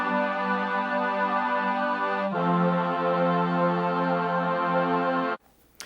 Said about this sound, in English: The mixed custom choir and two brass from the Mellotron M400.